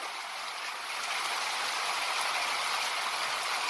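Heavy rain comes down hard and steadily, a dense, loud, unbroken hiss of water pounding surfaces nearby, with no voices.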